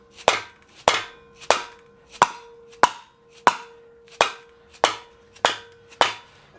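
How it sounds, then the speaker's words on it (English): A dead blow hammer striking the valves of an LS engine cylinder head to unseat stuck keepers, ten sharp, loud, evenly spaced metallic blows, each with a short ringing tail, no talk. "you have to hit the valves with like a dead blow like this."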